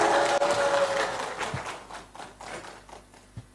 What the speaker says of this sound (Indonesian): Tepuk tangan yang meriah untuk paslon nomor urut 1.